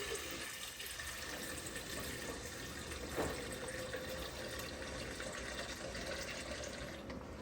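Water is poured steadily into a container while making a salty lassi, a continuous soft splashing and trickling that runs throughout at low level, with no talk.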